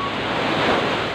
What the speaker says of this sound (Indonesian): Itu Pantai Mentigi yang ada di Desa Dusun Mentigi, Desa Kecamatan Pemenang, Lombok Utara